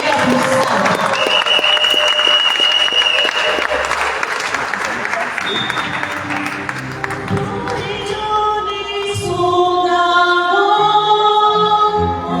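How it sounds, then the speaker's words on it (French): A church congregation at a Gabonese grace-days gathering breaks into sustained, dense applause with some cheering, loud and close, then fades into ringing musical tones and voices near the end. "Acclamez le Seigneur pour ça."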